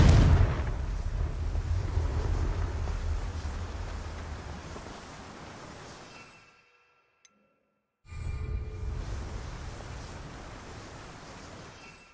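A Confringo blasting spell goes off in the Hogwarts Legacy game, a broad roaring burst that slowly fades into a few seconds of silence before a second rumbling blast swells up and tapers away.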